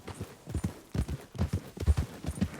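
Horse hooves clip-clop in a steady trotting rhythm while riding in Red Dead Redemption 2, close and moderately loud with no talk over them.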